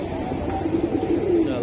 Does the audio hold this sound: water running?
no